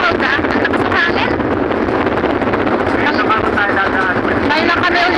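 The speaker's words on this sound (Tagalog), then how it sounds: "Ang lakas ng hangin." Strong wind on the Phu My Bridge buffeting the microphone with a heavy, continuous roar, loud and close, with faint voices mixed in.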